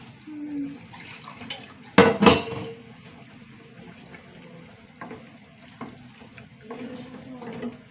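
A short gush of hot water poured into a pot of curry with ground paste, then quieter kitchen clatter and faint background sounds.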